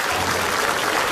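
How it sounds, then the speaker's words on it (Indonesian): A studio audience at an Indonesian comedy talk show claps in a short, dense burst of applause at steady volume. "tepuk tangan dulu dong"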